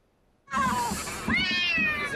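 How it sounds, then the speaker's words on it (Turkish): A cat stuck in a car wheel at a seaside spot meows loudly and plaintively up close, two long strained cries back to back after a moment of quiet. "Avcılar sahilde ise yaramaz bir kedi bir otomobilin tekerleğine sıkıştı."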